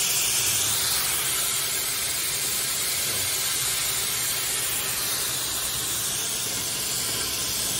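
Steady, loud, continuous spraying hiss that fills the whole stretch without a break, close by and unchanging, with no talk over it.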